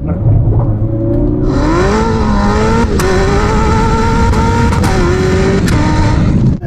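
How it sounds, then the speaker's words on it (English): A 1200 hp Bugatti Chiron hypercar accelerates hard with a loud, rising engine whine, punctuated by several sharp crack-like bangs at each gear change, close and continuous throughout. "It's like a gun going off when you change gears."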